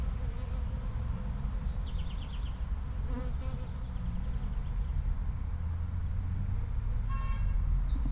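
Carpathian honeybees fly around near a hive in warm sunny weather, making a steady, faint buzzing drone with passing hums, and no one talks.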